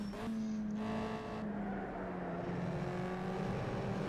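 A Palatov D4 race car in a racing game, a steady droning engine hum held at a fairly constant pitch with slight shifts, faint and continuous with no voices.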